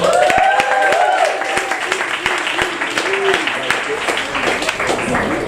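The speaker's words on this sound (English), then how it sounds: "Big round of applause for Dusty." An audience at an LGBT comedy night applauds as a stand-up comedian takes the stage: loud, dense clapping with some rhythmic beats, mixed with crowd noise and cheering voices, and a person speaking over it.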